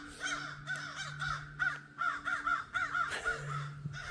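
A crow caws repeatedly outside, a series of close, harsh calls in irregular bursts with brief gaps, fairly loud and alone.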